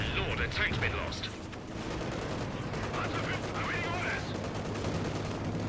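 Tank and mortar battle in Company of Heroes 2, a dense, steady barrage of overlapping gunfire, cannon blasts and explosions rumbling continuously at a loud level.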